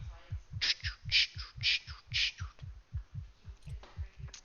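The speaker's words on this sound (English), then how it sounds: "You hear that heartbeat?" A steady, thumping heartbeat effect pulses low and rhythmic during a video game fight, with bright clanking hits layered over it early on and a player talking faintly underneath.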